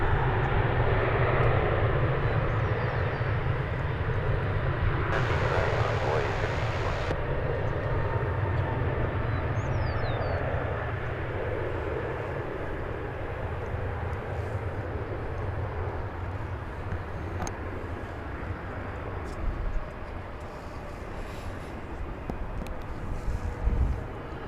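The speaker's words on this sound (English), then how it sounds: "That most recent landing was American Flight 2335 from Albuquerque, 737-800" An American Airlines Boeing 737-800 landing at DFW airport, heard from a distance as a loud, sustained engine roar and rush that slowly fades, with some wind buffeting the microphone.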